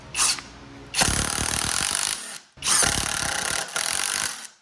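A SKIL PWRCore 20 cordless impact driver with a nut driver drives large bolts, loud rapid hammering bursts in two long runs, each split by a brief pause, close by with no talk.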